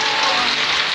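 Rain falls steadily near Minca, Colombia, a dense, even hiss that stays loud and close without a break from start to finish.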